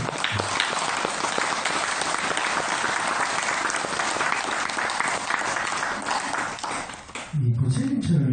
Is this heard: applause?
yes